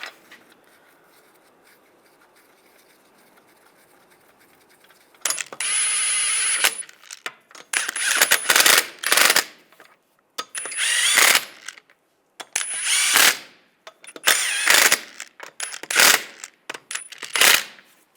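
Lug bolts are started on a 1995-2005 Volkswagen Jetta wheel with a power tool: several loud whirring, rattling bursts separated by short pauses, close up, after a few quiet seconds.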